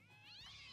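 A swarm of summoned cats meowing in a fantasy video game, a brief rising meow chorus, faint and up close, with no speech.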